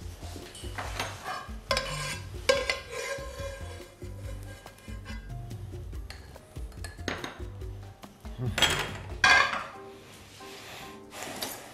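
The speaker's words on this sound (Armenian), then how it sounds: "Եվ տապակում ենք ծովախեցգետիները" Shelled shrimp frying in a pan for a tomato and shrimp salad, with soft sizzling under repeated metallic scrapes, clinks and stirring of utensils against the pan, louder bursts near the end.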